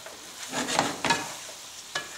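Gnocchi tossed with nuts in a frying pan over medium heat, heard as a soft background sizzle with several distinct scraping stirs and clatters of a utensil against the pan, close and moderately loud, without speech.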